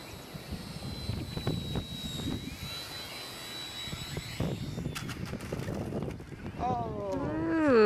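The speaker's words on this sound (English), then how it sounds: "Come look at the plane." An airplane flies overhead outdoors during a family outing, its jet engine roar building and swelling toward the end, while people chatter and call out nearby and a whistling tone rises near the close.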